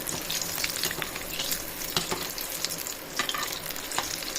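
Susiyam, a batter-coated sweet filled snack, deep-fries in hot oil with a dense, continuous bubbling sizzle and occasional scraping taps of a ladle, close and unbroken throughout.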